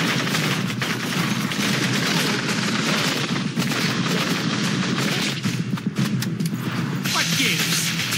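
Gunfire rattles almost nonstop through a shooter game scene in Blue Estate, dense bursts layered over a busy, loud soundtrack with no clear gaps.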